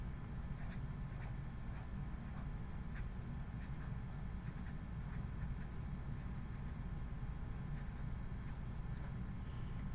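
Pencil drawing a line on paper, a steady scratchy scraping that runs continuously for about ten seconds, close and quiet, with no one talking.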